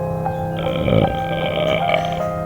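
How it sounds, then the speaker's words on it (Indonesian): A long, low, gurgling burp rumbles out for about two seconds over a steady background hum. "Lalu tiba-tiba mayat itu bersendawa."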